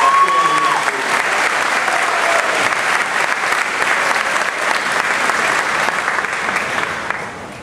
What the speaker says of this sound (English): How about a round of applause for our students?